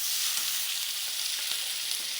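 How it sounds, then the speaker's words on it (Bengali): Green chillies and onion frying in hot spiced oil give a steady, even sizzle, close and moderately loud, with faint soft ticks and pops under the hiss and no voices. "এখানে আমি তেলের মধ্যে কাঁচামরিচ আর পেঁয়াজ ফোড়ন দিয়ে দিয়েছি।"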